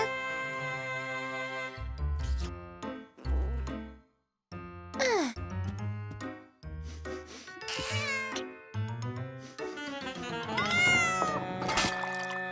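Gilbert, a cartoon cat, meows repeatedly, with several drawn-out, rising and falling cries broken by short pauses, close and clear with a little faint background music.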